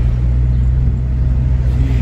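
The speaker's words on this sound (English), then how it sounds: "So we're just driving through Levin at the moment." Steady low engine and road rumble from a car driving through the town of Levin, New Zealand, heard from inside the cabin, continuous and fairly loud with no talking.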